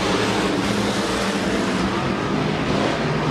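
Stock cars roaring around the US 30 Speedway oval during a race, a dense, loud, continuous engine drone with rising and falling revs and cars sweeping past.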